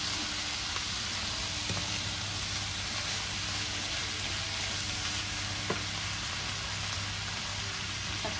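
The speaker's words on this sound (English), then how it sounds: "we are now going to add back in our mince. Kidney beans, which I've just drained and rinsed." Mince and drained kidney beans sizzle in a pan for chilli, a steady, even frying hiss with faint stirring ticks, close and continuous with no talk.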